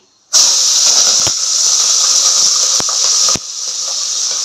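Green chillies hit hot oil already holding bay leaf, marathi moggu and cinnamon for bagara rice, bursting into a sudden loud, sustained sizzle with a few sharp pops and crackles, close up and without talk.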